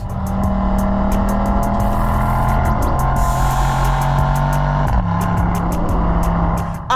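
A Mercedes-AMG E63 S sedan's engine and exhaust roar loud and steady throughout, with a deep, rumbling drone that shifts pitch as it revs and changes gear partway through, heard close up with no talking.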